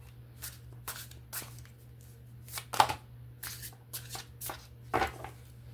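A deck of oracle cards, about 111 cards, is shuffled by hand, producing a quick series of crisp riffling bursts and soft slaps at an irregular rhythm, close and fairly quiet against a low steady hum.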